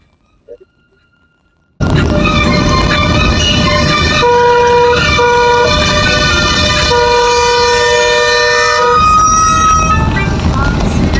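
A loud, blaring bus horn sounds close behind a car on the Devimane Ghat mountain road and holds for many seconds, its tone shifting slightly, after a brief quiet moment.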